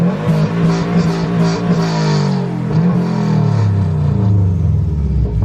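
Subaru WRX engine revving up close and loud, a deep throaty rumble rising and falling in pitch, then settling lower toward the end.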